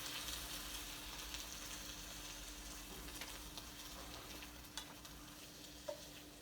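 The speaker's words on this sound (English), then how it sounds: "And then we're just gonna give that a big old stir" Eggplant with Italian seasoning is stirred in a skillet, a faint, low sizzle with a few soft scraping clicks from the spoon, quiet and continuous, with no one speaking.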